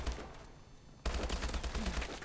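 Automatic gunfire in the shooter game Advanced Warfare, a brief quieter lead-in followed by a loud, rapid burst of shots.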